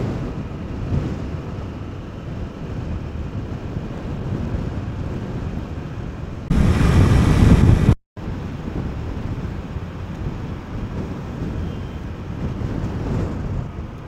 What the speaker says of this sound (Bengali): হাওয়াটা প্রচুর চলছে তো তার কারণে সেভাবে স্পিড নেওয়া যাচ্ছে না